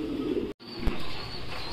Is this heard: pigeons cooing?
yes